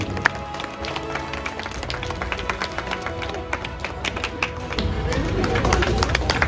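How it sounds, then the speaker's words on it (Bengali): Audience applause at an annual cultural programme and student book and blanket distribution event, moderately loud and continuous with scattered sharp claps and a crowd murmur, building slightly toward the end. "হাততালি দিয়ে সহযোগিতা করবেন।"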